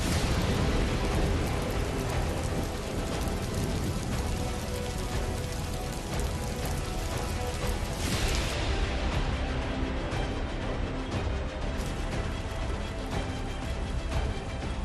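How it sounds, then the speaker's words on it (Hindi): Heavy monsoon rain pours down in Madhya Pradesh as a dense, continuous roar, with deep rolling thunder rumbling underneath throughout. "मध्य प्रदेश के कई जिलों में तेज बारिश का दौर जारी है।"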